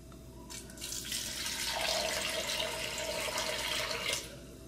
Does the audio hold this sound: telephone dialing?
no